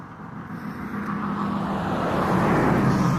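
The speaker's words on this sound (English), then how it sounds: "hold on, there's a car coming" A car approaching along a road, its engine and tyre rumble swelling steadily louder over about three seconds as it nears, with no speech over it.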